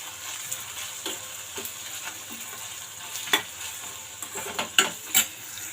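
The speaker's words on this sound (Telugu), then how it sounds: "ఇవి మొత్తం అన్నీ బాగా కలుపుకుందాం ఆనియన్స్ బాగా మగ్గించుకుందాము" Sliced onions and curry leaves fry in a pan for carrot rice while a spoon stirs them, giving a faint steady sizzle under a series of close scraping and tapping strokes that grow louder near the end.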